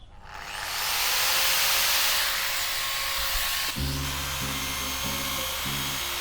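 A small detail sander works into the corners of wooden decking with a steady, loud, whirring hiss that rises quickly and holds. Tuneful music comes in beneath it partway through.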